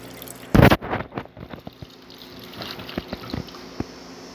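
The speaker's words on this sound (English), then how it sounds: "good strong flow of water here" Water flowing from a Bezzera Strega lever espresso machine during a service, a steady trickle with dripping after a loud clunk near the start, fairly close.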